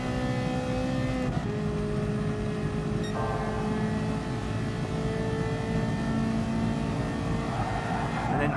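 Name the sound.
Ferrari F40 engine accelerating on straight, GT Sport video game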